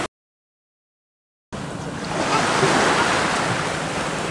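Sea waves at the shore near Astorga, a broad steady wash of surf and wind noise that starts abruptly after a short silence and swells slightly, loud and close with no voices.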